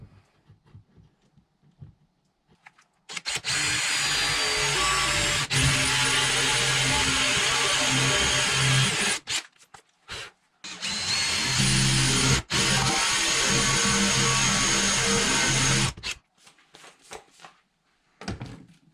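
A power drill whirs loudly boring Euro hinge holes in wood, two sustained bursts of several seconds each, with brief quiet gaps and small clicks between them.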